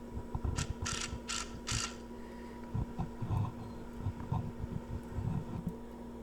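A powered screwdriver drives screws into wooden vanity dividers, its ratcheting clutch chattering in short bursts, with a few high whirring spurts early on, all close and moderately loud.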